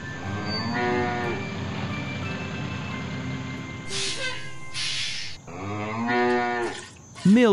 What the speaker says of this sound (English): The cow chewed hay all day, and now she has a lot of milk